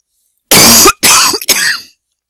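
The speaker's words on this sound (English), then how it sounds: "this cough is killing me" Three harsh coughs from one person, close and loud, the first longest and the following two shorter, with silence before and after.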